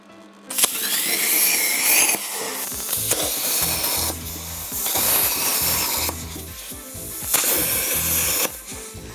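Small holes being made in the casing of a heater built from drink cans, heard as irregular scraping and rubbing bursts of metal work at close range, with no talk.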